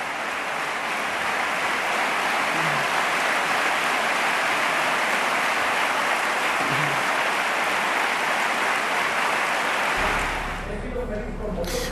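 Sustained, dense applause from a crowd of nearly 4,000 people at an extraordinary congress of the Partido Popular, a steady roaring wash of clapping that drops away abruptly near the end.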